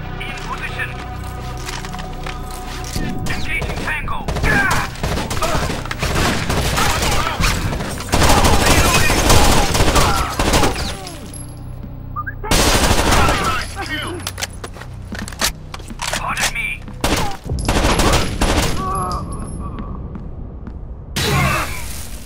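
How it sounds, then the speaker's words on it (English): Rapid bursts of gunfire in the tactical shooter Rainbow Six Vegas 2, loud sharp cracks and rattling volleys that start and stop abruptly, mixed with game sounds and voices talking between shots. "Taking fire."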